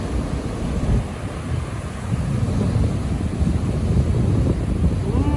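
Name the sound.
rough ocean waves at St Augustine, Florida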